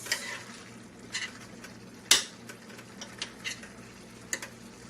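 A spoon or spatula stirring a vegan meat alternative meal in a pan, with soft scraping and light clinks against the cookware over a faint sizzle, a few sharper taps standing out, no voices.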